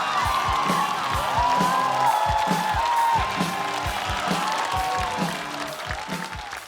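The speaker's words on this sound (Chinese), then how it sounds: "我们掌声听听怎么回事，掌声欢迎杨仔儿。" At a stand-up comedy show, an audience applauds to welcome a comedian to the stage, with dense, sustained clapping and some cheering throughout, and voices carrying over it.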